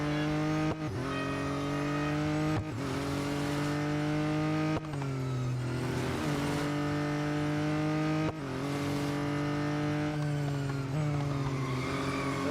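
A fully upgraded McLaren race car in Real Racing 3 screams loudly through repeated gear changes, its engine note climbing steadily and then dropping at each shift, with no talk over the continuous roar.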